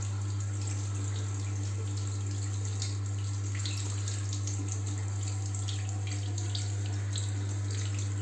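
Hot water from a solar water heater tap, boosted by a Wilo booster pump, runs in a steady continuous stream over a constant low motor hum throughout, with no voices.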